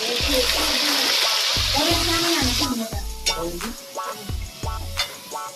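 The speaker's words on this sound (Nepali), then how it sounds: "यहाँनिर चट्ट तेलमा चाहिँ चट्ट सुकेको खुर्सानी झान्दैछ मेरो भाइले" Dried chillies frying in hot oil for chow mein, a loud close sizzle at first that settles into spattering bubbles, with repeated metallic stirring scrapes and clinks against the pan.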